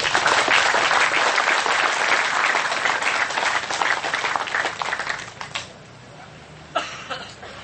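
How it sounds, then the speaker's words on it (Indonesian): Sustained audience applause at an Indonesian gathering, dense and loud for about five seconds, then tapering off into a quieter room with a few scattered claps near the end. "Jadi jangan main-main dengan tepuk tangan yang ikhlas."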